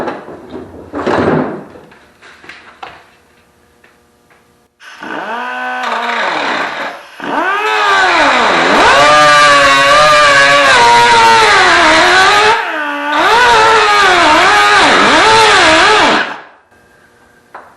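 Angle grinder working the edge of a car's right fender, starting with scattered knocks and a brief burst, then a loud, continuous whining grind that rises and dips in pitch over about ten seconds with one short break, ending abruptly.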